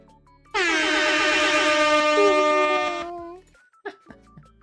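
A loud, sustained air horn blast sounds on its own for about two and a half seconds, then cuts off, followed by a few brief soft knocks.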